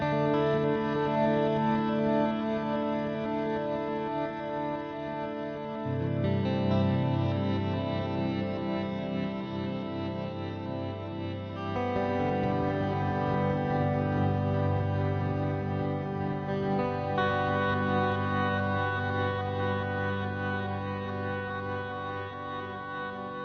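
A sustained tone processed through the DelayJaVu delay effect on iOS/Mac, its delay taps set slightly offset so the repeats smear into a thick, chorus-like wash that shifts in pitch every few seconds over a steady drone.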